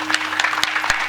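An audience claps at a devotional Shivcharitra discourse, several sharp, spaced hand claps over a faint steady hum, fairly close and alone without speech.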